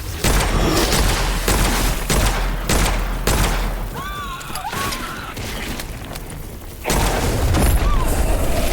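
Heavy Magnum gunfire in the video game Witchfire: loud, repeated booming shots and sharp bursts fill the stretch, with a brief lull of whooshing, tonal effects partway through before the shooting resumes at full force.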